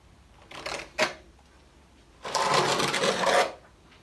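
Tile adhesive is scraped onto a floor during a kitchen renovation on an off-grid homestead. Two short raspy strokes come first, then one longer, louder scrape, each close and separate, with quiet gaps between them.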